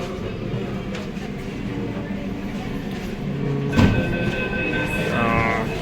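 A metro train arrives at Pune railway station with a steady close rumble, a sharp clack near the middle, then tonal beeping toward the end, under a faint background murmur.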